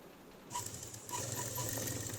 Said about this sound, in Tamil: கரெக்டாக அந்த ஃபோல்டு கரெக்டாக வர மாதிரி தைச்சிட்டு வாங்க